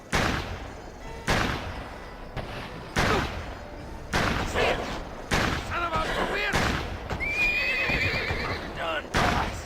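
Horse neighing and whinnying in the GUN video game, with sharp bursts of gunfire breaking in every second or so and clip-clopping hooves beneath, while someone talks over the action.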